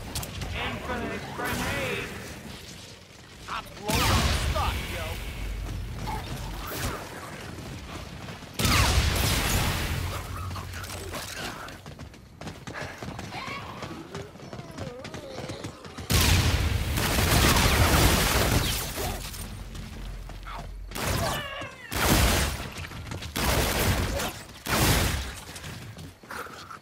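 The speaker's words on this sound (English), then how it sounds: "Infinite grenades! I blow up the spot, yo!" Repeated grenade blasts and bursts of gunfire from a video game, loud booming hits and rattling shots recurring in clusters across the clip, mixed with ongoing talk and music-like background.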